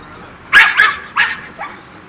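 A Belgian Malinois barks close by, giving four sharp, loud barks and yips in quick succession, the last one softer.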